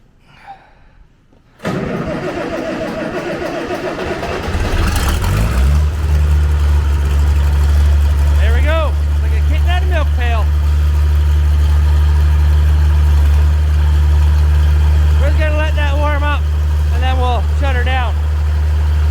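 A farm engine cranks and catches, then settles into a loud, steady, deep-throbbing idle that runs on without a break, with faint voices or chirps over it now and then.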